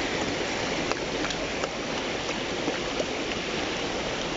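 A German Shepherd dog drinks and paddles in water, a steady splashing and flowing wash with small lapping ticks scattered through it, close by and continuous.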